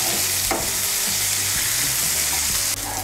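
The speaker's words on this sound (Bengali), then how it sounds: "পেঁয়াজটাকে বাদামি করে ভেজে নেব।" Onions fry in plenty of oil until browned, a loud, dense, continuous sizzle close by, with a few stirring scrapes and no speech.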